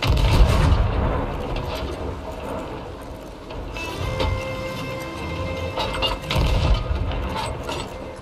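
Cannonballs fire in a rapid series of heavy booms and mechanical clanks, loud and close, with rumbling broadband bursts swelling and fading.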